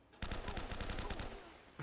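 Rapid automatic gunfire from a weapon in Uncharted: Drake's Fortune, a fast burst of about ten sharp shots in quick succession that breaks off abruptly, with another shot starting at the very end.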